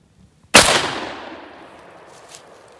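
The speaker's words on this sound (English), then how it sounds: "I guess I'm just going to shoot that log over there again" A single loud JTS M12AK shotgun blast fired at a log outdoors on a range, sharp and close, followed by a long rolling echo that slowly decays.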